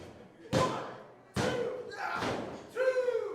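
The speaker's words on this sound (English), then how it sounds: "Oh, going for the BOJACK bomb. Oh, Ushigoroshi" Heavy thuds of a wrestler being slammed onto the ring mat in a BOJACK Ushigoroshi sequence at a professional wrestling event, several loud impacts in a row, with excited commentary and crowd noise around them.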